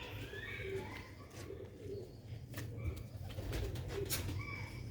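Pigeons cooing at a bird seller's coop, soft repeated low coos with some chirps and light rustling, faint and close, no speech.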